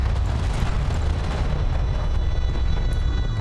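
A strike craft blows up in the real-time strategy game Homeworld: Deserts of Kharak, producing a dense, rumbling explosion that keeps roaring steadily for several seconds with no talk.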